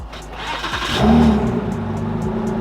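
A car engine cranks and catches, then revs briefly before settling into a steady mid-pitched idle, close and fairly loud with no talking.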